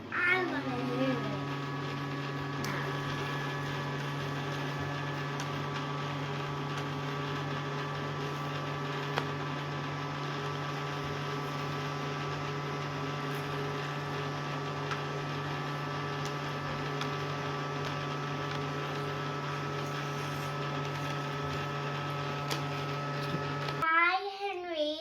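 A Casdon Henry Hoover toy vacuum cleaner runs in a kitchen, giving a steady, even motor hum with a buzzing tone that holds unbroken for the full stretch before cutting off at the end.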